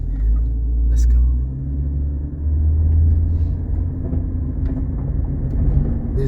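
A 2005 Chevrolet Trailblazer EXT with a V6 and 4x4 drives along a residential block, its steady low engine and road rumble filling the cabin, swelling slightly and holding constant throughout with a few faint clicks.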